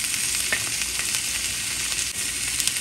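Salmon and a leg grilling together over heat, giving a loud, steady sizzle with small crackles and pops throughout, close by and with no voices.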